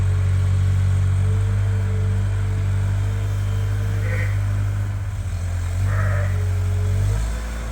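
A few faint bleats from sheep and lambs in a pen on a sheep farm rise briefly above a loud, steady low engine rumble.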